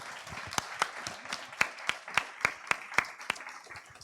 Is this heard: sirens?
no